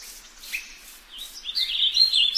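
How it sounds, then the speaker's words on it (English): Birds chirp and sing brightly in short, high phrases, growing livelier toward the end, with a quiet background; forest ambience in Minecraft. "such as birds singing in the forest"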